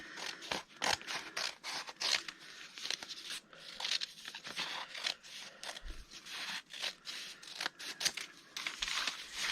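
Scissors snipping papyrus plant stalks into strips for paper, a quick irregular series of close, crisp cuts with faint crinkling and scraping, fairly quiet and without speech.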